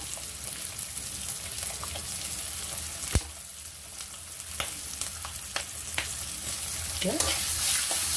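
Slit green chillies sizzle and fry in hot oil tempering for sesame pulihora, a steady crackling hiss with occasional stirring clicks and louder spatters, no talk.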